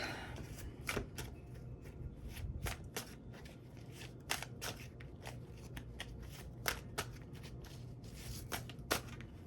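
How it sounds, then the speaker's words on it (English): A deck of tarot cards is shuffled by hand during a reading, with repeated crisp riffles and snaps in an irregular rhythm, close and fairly quiet, with no talking. "I always do some shuffling on camera too while I do my readings"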